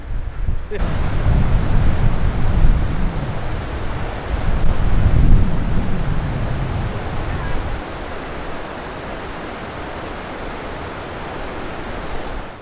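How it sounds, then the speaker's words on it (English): A rushing river at the Sinks in Wyoming's Sinks Canyon pours into cracks in a cavern floor, a loud continuous roar with low rumbling surges and wind buffeting the microphone, easing to a softer steady hiss. "the rushing river flows into cracks and crevices in the cavern floor and disappears underground"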